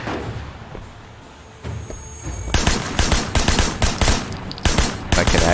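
Rapid machine-gun bursts in the Sleeping Dogs video game, quiet at first and then a sustained run of loud, closely spaced shots that crackle steadily through the second half.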